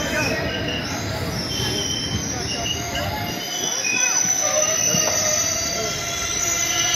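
Kaviguru Express train on the Jamalpur–Howrah line pulling into Sainthia station, with loud steady rumble, rattling, and high wheel squeal continuing throughout.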